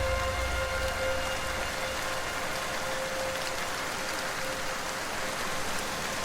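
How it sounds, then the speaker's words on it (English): Early morning rain falls in Patagonia's Torres del Paine during a trek, a steady even hiss of drops with a faint tonal hum underneath and no talking. "It is an early morning and it's raining."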